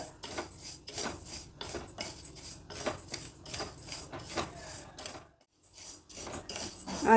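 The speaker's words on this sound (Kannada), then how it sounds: "ಎರಡನ್ನೂ ಸ್ವಲ್ಪ ಹುರಿತೀನಿ ತುಂಬ ಕೆಂಪುಗೆಲ್ಲ ಹುರಿಯೋದು ಬೇಡ" Rice and moong dal dry-roasting in a pan are stirred with steady, faint scraping and rattling strokes of a spoon against the metal, with a brief pause near the end.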